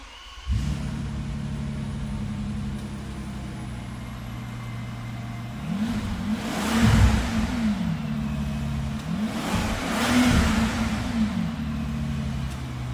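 A 2010 Bentley Continental's 6-liter twin-turbo W12 starts up into a deep, close idle, then is revved twice, each rev rising and falling smoothly before settling back to idle.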